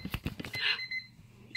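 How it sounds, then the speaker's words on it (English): A kitchen timer goes off in a home kitchen, a bright steady ringing tone sounding for about half a second, with a short second burst at the end, after some brief clattering handling noises. "And the timer has gone off."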